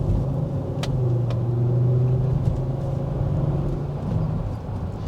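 A 2.5-litre five-cylinder petrol engine in a Volvo XC90 2.5T pulls away with a steady, throaty rumble, heard from inside the car with no talk.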